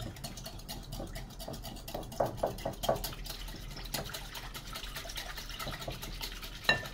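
Soft butter bread dough ingredients are mixed by hand in a bowl, producing quiet, rhythmic stirring and scraping strokes with small wet clicks, close and steady.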